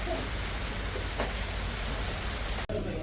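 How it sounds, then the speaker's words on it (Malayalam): Heavy rain with strong wind makes a dense, steady rushing hiss close by that fills the whole stretch, broken only by a short dropout near the end. "നല്ല മഴ നല്ല കാറ്റുണ്ട്"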